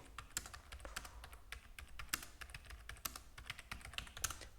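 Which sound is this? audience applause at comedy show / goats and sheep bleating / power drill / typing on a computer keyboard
typing on a computer keyboard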